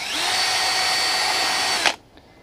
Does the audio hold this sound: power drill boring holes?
yes